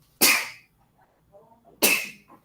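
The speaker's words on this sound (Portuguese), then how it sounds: "Espirrar." Two sharp sneezes about a second and a half apart, each a loud sudden burst that quickly fades, with faint murmuring in between.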